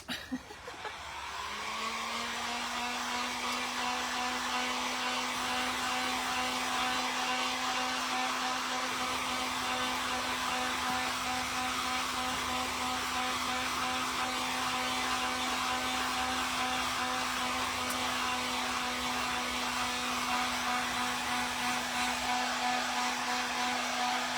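A hair dryer blows steadily on fresh paint on a thrifted decorative chicken, making a constant close whooshing whine with a fixed pitch that holds unbroken throughout.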